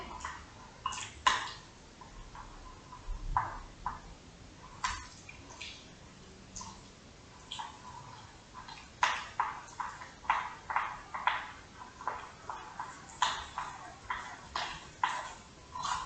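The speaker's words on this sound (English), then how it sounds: "now we're gonna stir this up real quick" A carob sweet potato fudge mixture being stirred quickly as it stiffens, giving faint, irregular scraping and tapping strokes in quick bursts with quiet pauses between.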